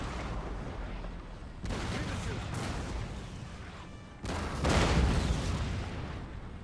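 Napoleonic artillery in Napoleon: Total War, British and friendly cannons firing in heavy booming volleys that come in bursts and carry on continuously, with someone talking over the barrage.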